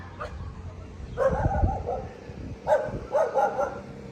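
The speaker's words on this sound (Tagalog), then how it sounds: "Kinakahulan ako ng aso." A dog barks in several short bursts, close by, with a low rumble and quieter yips between the barks.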